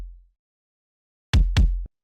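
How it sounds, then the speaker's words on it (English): A layered kick drum sample with a deep, thumping low end, used to make warped electronic drums, hits twice in quick succession, loud and close, each boom ringing with low rumble under a brief bright attack, with no talking. "it's mostly just giving you that deep thumping low end"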